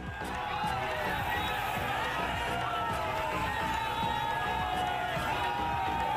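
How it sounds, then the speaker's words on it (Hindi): A crowd of protesting farmers clashes with police at a collectorate gate in Hanumangarh, Rajasthan, a dense continuous roar of shouting voices and scuffling movement that stays loud throughout. "पुलिस ने प्रदर्शनकारी किसानों पर ताबड़तोड़ लाठियां चला दी"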